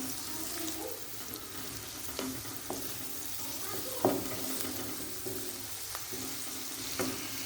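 Onions, garlic and ginger sautéing gently in a pan for baingan bharta, a soft continuous sizzle with occasional spoon stirs and clinks, moderately quiet and without speech.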